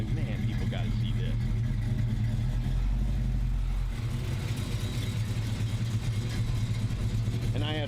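A 1969 Ford Mustang Mach 1 V8 with a mild cam rumbles steadily nearby with a deep, lumpy idle and a brief rev swell midway, while people talk over it throughout.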